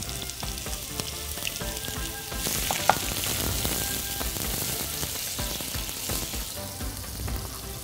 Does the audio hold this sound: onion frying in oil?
yes